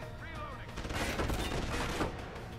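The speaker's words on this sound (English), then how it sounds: "Somebody shooting from down there." A rapid burst of gunfire in Deus Ex: Human Revolution fills the short stretch with dense, loud shots over a heavy low backdrop.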